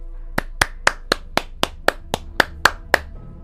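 A single person claps hands in a steady, evenly spaced run of about eleven sharp, close claps over a faint low hum, with no voices.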